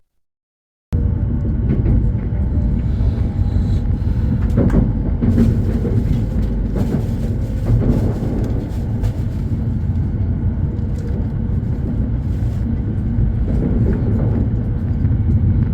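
Constant low rumble and rushing noise inside a moving Joetsu Shinkansen bullet train leaving Nagaoka, steady and loud throughout after a brief silent start.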